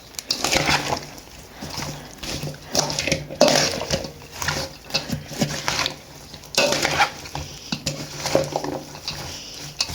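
Spoon clinking and scraping in a bowl while stirring a Korean-style tomato salad with garlic: irregular knocks and wet sloshing bursts, close and moderately loud, with no talk.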